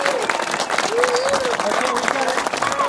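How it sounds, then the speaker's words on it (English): A crowd applauds for veterans at the 2012 Penguin Plunge, a dense, continuous patter of clapping with cheering voices mixed in, while someone speaks briefly over it. "So a little round of applause for all of you"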